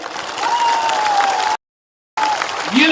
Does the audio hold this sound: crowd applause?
yes